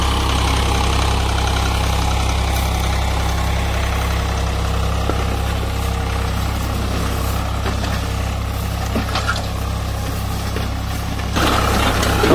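A worn 1999 Swaraj 735 FE tractor engine runs steadily close by, a loud continuous diesel idle with a heavy low throb and slight knocking, unbroken for about twelve seconds.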